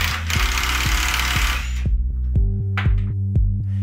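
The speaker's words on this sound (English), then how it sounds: "Shear the bolts." Bolts being sheared off a cable lug during installation of a 3M cold shrink QT-III silicone rubber skirted termination: a hiss of broadband noise, then a series of sharp rhythmic clicks and low mechanical pulses, close and fairly loud, no talk.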